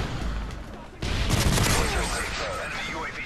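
Dense automatic gunfire and shooting from Call of Duty Modern Warfare 3 on the Middletown map, a loud continuous barrage that swells after the first second and stays heavy to the end.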